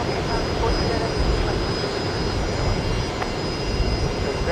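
An arriving airliner at Brisbane Airport gives a loud, steady jet roar that holds evenly throughout, with a faint high whine on top.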